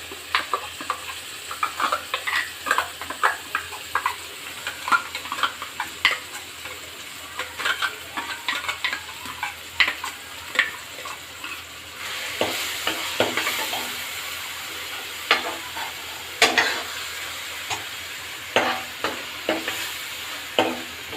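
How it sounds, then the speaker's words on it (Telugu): Masala paste for an Andhra chicken curry frying in a pan, with a steady sizzle and repeated scraping strokes of a spoon stirring it, nearby and moderately loud with no talking. "దీన్ని కూడా కొద్దిగా పచ్చివాసన పోయేటంత వరకు వేచేద్దాం, బాగుంటుంది."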